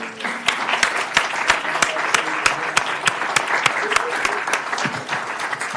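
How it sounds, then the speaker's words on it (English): A city council chamber audience applauds a Hometown Fair Board member with crisp, close individual claps over a fuller crowd wash, steady throughout with some murmuring voices underneath. "Maybe we can give him a round of applause."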